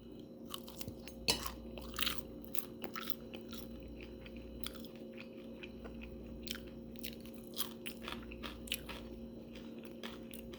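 Crispy Walmart low sodium bacon being bitten and chewed up close, a steady run of sharp crunches and crackles over a low background hum.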